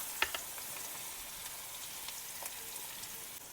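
Onions sizzling in hot oil with cumin, curry leaves and chillies for vaghareli khichdi, a steady close frying hiss with a sharp crackle as they drop in, then scattered pops.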